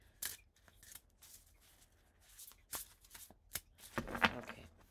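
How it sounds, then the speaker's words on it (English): Oracle cards being shuffled by hand, with a series of crisp riffling and slapping bursts spread across the clip and a denser flurry near the end, close and fairly quiet. "Let's shuffle these one more"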